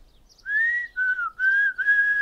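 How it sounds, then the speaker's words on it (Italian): A cartoon character whistles a short, clear tune of four sustained, slightly wavering notes, close and alone against silence. "Per fischiare bisogna allenarsi."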